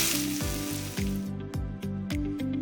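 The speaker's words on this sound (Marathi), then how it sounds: "जिरं मस्त फुललं की त्यात बारीक चिरलेले 3 मोठे कांदे ॲड करून परतून घ्यायचे" Finely chopped onions and cumin seeds frying in hot oil in a pan, a steady bright sizzle with repeated rhythmic scraping strokes of stirring, close and alone.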